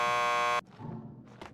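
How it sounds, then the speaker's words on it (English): A door buzzer in the video game Max Payne 2 blares as a steady, harsh electronic tone for about half a second, then cuts off into faint room noise. "Just press the buzzer by the door."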